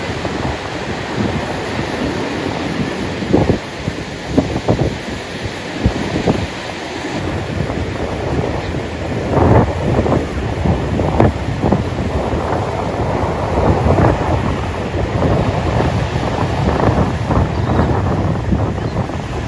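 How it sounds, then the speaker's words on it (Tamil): Rough, heavy sea waves at Marakkanam after Cyclone Fengal crash and surge under strong buffeting wind noise, a loud continuous roar with bursts of breaking surf. "பெஞ்சன் புயல் உருவானதை அடுத்து மரக்காணம் பகுதியில் கடும் கடல் சீற்றம்."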